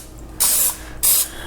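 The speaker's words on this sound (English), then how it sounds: "just grab some vegetable cooking spray, and you want to spray all sides of your loaf pan" Vegetable cooking spray is sprayed onto loaf pans in two short, loud hissing bursts with a brief pause between them, close up with no talking.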